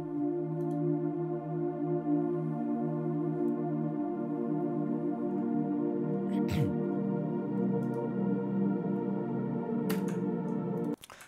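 A long ethereal synth pad washed in Valhalla Supermassive reverb with its low end cut, holding steady chords throughout with a couple of faint clicks, then cutting off abruptly at the end.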